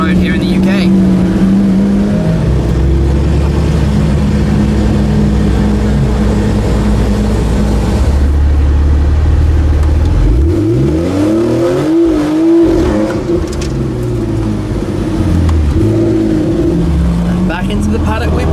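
A Fenyr SuperSport with a Kline exhaust drives the Goodwood hill climb, its engine loud and close, rising and falling as it revs and sweeps through a passing pitch change, with a voice talking over it.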